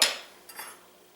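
A utensil scrapes and clinks briefly against a pot while crab soup is stirred, a quick metallic stroke followed by two fainter taps close by.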